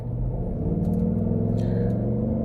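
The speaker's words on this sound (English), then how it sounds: "I would keep hitting the gas to hear the damn engine and exhaust" Deep steady rumble of a 2024 Ford Mustang GT's Coyote V8 engine and exhaust, loud and close, holding an even throaty idle with a slight swell.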